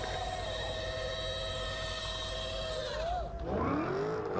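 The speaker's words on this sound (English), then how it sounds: "You hear the electric motor." A high-pitched electric motorbike motor whines steadily with layered tonal harmonics, gliding down in pitch near the end as the bike slows, under constant road and wind noise.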